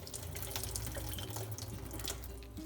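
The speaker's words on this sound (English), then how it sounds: "look how much water leaves now" Water squeezed by hand out of cooked spinach into a bowl, a close, steady pouring and dribbling stream like a running tap, with no voices over it.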